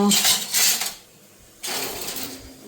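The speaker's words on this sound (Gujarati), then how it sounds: "ચા હલાવું છું" A spoon stirs tea in a metal pot, giving close, scraping clinks in two bursts separated by a short pause, fairly loud and with no talk.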